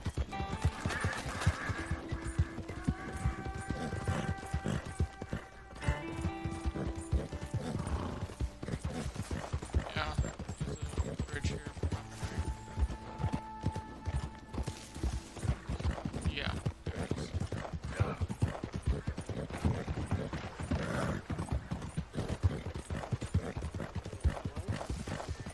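Steady clip-clop of horse hooves with occasional whinnies in Red Dead Redemption 2, over a busy game soundscape with music and effects, with some talking now and then.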